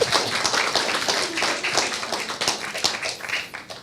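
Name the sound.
audience round of applause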